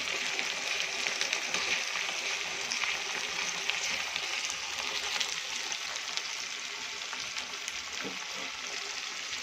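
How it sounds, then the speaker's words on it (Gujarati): Masala spices and coriander fry in oil for kadhi pakoda, giving a steady, even sizzle that holds throughout at moderate loudness with no talk. "હવે આ મસાલાને સારી રીતે તેલમાં ફ્રાય કરીશું."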